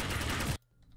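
Rapid gunfire in a Pac-Man style shooter game, a dense loud burst of shots for about half a second that cuts off abruptly into near silence.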